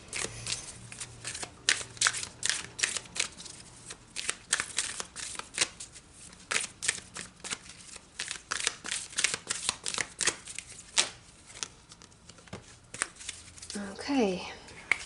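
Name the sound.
shuffling Isis Oracle cards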